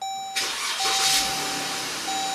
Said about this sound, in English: And let's crank the engine over and see the voltage drop.